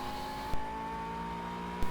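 A McLaren 12C GT3 race car in Project CARS at Oulton Park, its engine a steady droning hum at constant pitch with two brief thumps, one partway through and one at the end.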